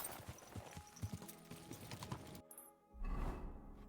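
Horse hooves clip-clop in Kingdom Come: Deliverance 2, a medieval-set game, as a quick run of soft, close, irregular steps that drops out briefly and then returns with a louder thump.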